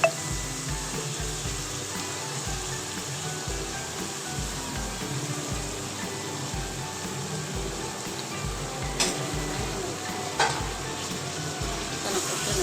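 Chicken pieces frying in butter inside a pressure cooker while a biryani is prepared: a steady, close sizzle with stirring scrapes, holding even throughout with a couple of sharper clatters near the end.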